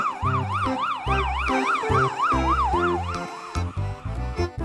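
A toy ambulance siren wails in a steady rising-and-falling electronic pattern over a bouncy tune, loud and close, with no talking.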